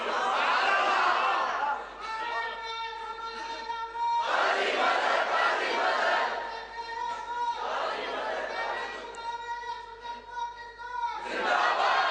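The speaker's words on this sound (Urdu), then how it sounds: "دیکھو یوں نعرے نہیں لگاؤ بھائی، بات سنیں میری۔" A large crowd at an Islamic religious gathering chants slogans loudly in unison, the rhythmic shouts rising and falling in repeated waves with a murmur of voices between them.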